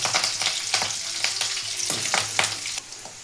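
Onion and curry leaves sizzling and crackling in hot oil for a crab curry, with dense popping and spatter bursts and occasional stirring scrapes, close up and without talk.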